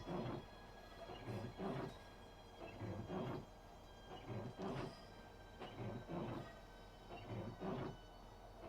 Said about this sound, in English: we're going to go ahead and slow the train down ourselves